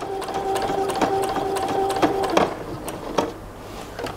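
A sewing machine stitches fabric for drawstring pants, its rapid mechanical ticking and clicking running close and steady, then easing off near the end.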